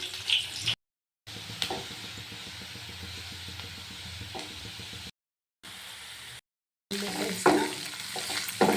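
Onion frying with cumin seeds and mustard seeds in a pan, a steady close sizzle with stirring scrapes, broken by a few short silent gaps.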